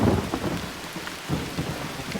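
Steady rain pours down while thunder rumbles in low, rolling bursts, with no voices.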